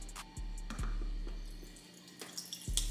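Water is poured into a jar during a homemade soda carbonation challenge, with splashing, dripping and a few sharp clicks and knocks against the glass, fairly close.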